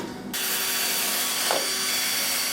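Rotary tool fitted with an abrasive wheel removing rust from a metal heat shield, a loud, steady broadband whir that kicks in after a brief quiet start and holds close and continuous throughout.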